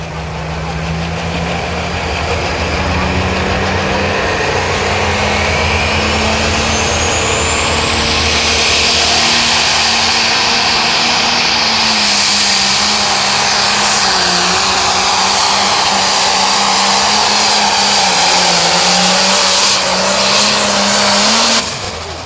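A 9500 Limited Pro Stock pulling tractor at a PPL Western Series tractor pull in Mound City, Missouri, makes a loud, close, sustained engine roar that holds and slowly climbs in pitch throughout the run.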